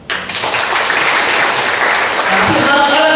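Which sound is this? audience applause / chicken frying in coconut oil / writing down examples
audience applause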